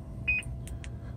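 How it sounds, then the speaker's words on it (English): A single short electronic beep from the anti-collision warning system in a Prime Inc tanker truck cab rises over a constant low engine rumble, followed by a few faint higher chirps. "you might hear that beeping in the background"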